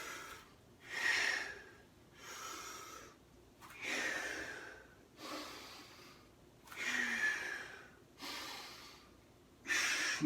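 A person breathes in and out during a bodyweight core and balance exercise, with about eight close, audible breath cycles in a slow, steady rhythm, each exhale a soft hissing rush followed by a quiet pause.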